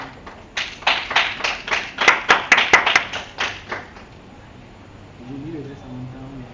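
A church congregation breaks into rhythmic clapping. A loud run of claps swells and then fades out, and a voice speaks faintly once it ends.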